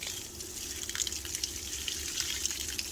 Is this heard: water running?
yes